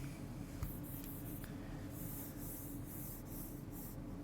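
Chalk or marker scratching on a board while writing out a differentiation problem during a math lesson, a series of short strokes over a steady room hum, fairly faint, with no talking.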